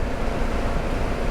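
Steady, loud rushing wind buffeting a helmet at speed on a Honda Africa Twin DCT motorcycle with the helmet shield open, a dense roar that fills the whole stretch without letting up.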